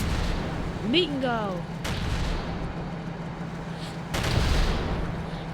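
Explosions and gunfire in the World War Polygon video game: heavy booms thud at intervals under game noise, with a whistling, descending effect early on and a player speaking briefly.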